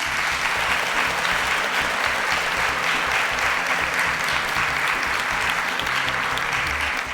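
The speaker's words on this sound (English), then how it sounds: "A round of applause as Isaac and Purity step out of the stage." Audience applause as contestants leave the stage at a show, a sustained, dense clapping from a large crowd that stays steady and loud throughout.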